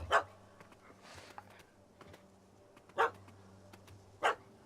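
Dog barking in the video game The Witcher 3, three sharp separate barks spaced over a few seconds against a quiet low ambient hum.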